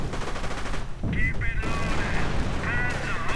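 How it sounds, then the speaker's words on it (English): Mortar fire and other battle noise from a real-time strategy match crackle in rapid, dense bursts behind a caster's talk, with a few sharp whistling tones over the steady explosive clatter. "Mortar keeps firing as well."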